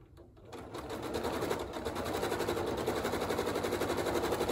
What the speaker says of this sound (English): you can go ahead and start sewing your sashing strips on one side of all of your diamonds